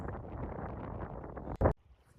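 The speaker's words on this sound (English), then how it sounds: "It's a little windy." Strong gusts of wind buffet the microphone with a roaring rush outdoors, ending in a brief loud thump before quieting.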